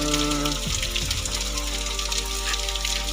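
Rain falls steadily during a forest hike at the Plankudikavu eco-tourism point in Vellarada, a dense, even hiss of drops close around the listener over a low background hum.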